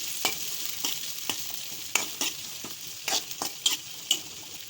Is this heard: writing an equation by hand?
no